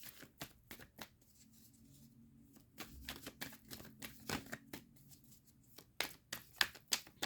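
Tarot cards are shuffled and drawn, giving a run of soft papery riffles and slaps with irregular bursts that grow louder and more rapid toward the end, heard close and alone.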